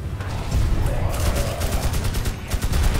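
Rapid M60 machine gun fire from the Magicka video game rattles in a dense, continuous burst of shots, loud and sustained throughout.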